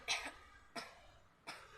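Three separate coughs, evenly spaced, close and fairly quiet, with near silence between them.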